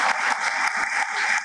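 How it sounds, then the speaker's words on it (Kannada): Loud, close rhythmic clapping at a Lingayat gathering in Karnataka, steady beats of about five per second, a lively crowd applauding on cue with no talk over it. "ಜೋರಾಗಿ ಚಪ್ಪಾಳೆ ತೊಟ್ಟದು"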